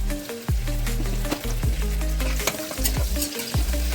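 Spices for tempering sizzle and crackle loudly in hot oil in a pan for a homemade rice dish, a steady close frying hiss broken by stirring scrapes every half second or so, with no talking.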